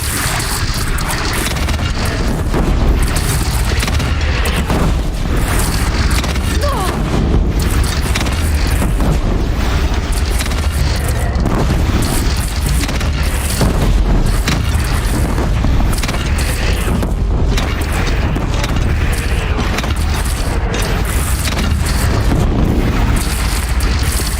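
Cannon fire and explosions in an action video game battle against a bandit clan, a dense, loud continuous roar of booms and blasts rumbling without letup and with no voices over it.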